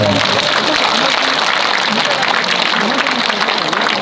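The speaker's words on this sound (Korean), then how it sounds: "서로가 서로에게 고생했다는 박수 한번 보내주시면 너무 좋을 것 같아요" A hall full of people claps at a gathering for elderly-care workers in Mapo-gu, a loud, continuous wash of applause with voices mixed into it throughout.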